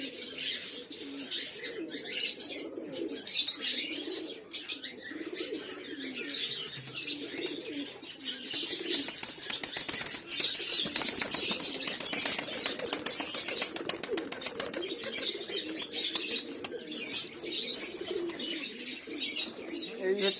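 Fancy pigeons in a home loft, including a Lalmohan male, give steady soft cooing and chirping throughout, with bursts of wing flapping, close and continuous.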